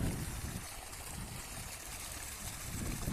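Water flowing from a borewell, a continuous rushing gush with a low rumbling undertone, steady and fairly faint, no talking.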